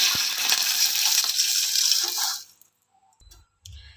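Water from a glass poured into a cooking pot coated with ghee while rice kheer is being made, a loud steady splash for about two and a half seconds that cuts off abruptly, then a few faint clinks.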